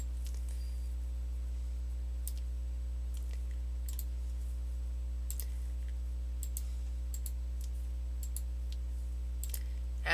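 Mouse clicks while copying and pasting code at a computer: a handful of sharp, isolated clicks spaced irregularly over a quiet, steady low hum.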